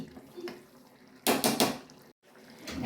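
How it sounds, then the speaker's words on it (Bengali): Spoon stirring a mixture of sugar and ghee in a metal pot, with soft scraping clinks followed by a louder burst of rattling and scraping against the pot. "ভালো করে মিক্স করে নিই আমি একটু চিনি দিয়ে দিচ্ছি আর দিয়ে দিচ্ছি আমি ঘি"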